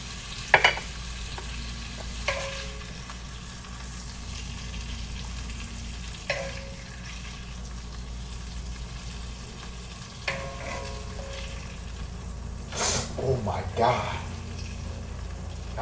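Meat fries in a pot with a low, steady sizzle underneath, punctuated by occasional louder pops and clinks of a utensil, while a person talks intermittently over it.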